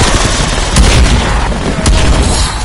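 Turret gunfire in Black Ops Cold War Zombies on Nuketown, a dense, loud barrage of booming shots with a few stronger bursts, continuous and close, with no voices.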